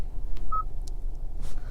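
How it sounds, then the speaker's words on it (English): A 2023 Hyundai Sonata Limited 1.6T touchscreen gives a single short, clear electronic beep as feedback, followed by faint taps over a low cabin hum. "the beeping can get a little bit annoying sometimes, so I highly recommend turning that off"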